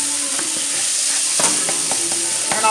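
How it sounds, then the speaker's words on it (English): Soy crumbles seasoned with ground red pepper and salt sizzle in a hot pan on a stovetop, a steady close frying hiss with a few soft stirring taps. "I'm just sauteing it"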